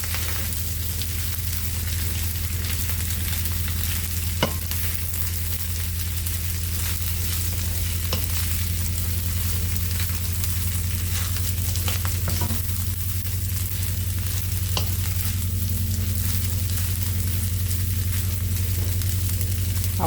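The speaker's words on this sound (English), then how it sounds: "Stir and break it up." Shrimp, meat and sausage fried rice sizzles steadily in a pan on medium heat while being stirred and broken up, with a constant loud frying hiss and occasional faint scraping taps.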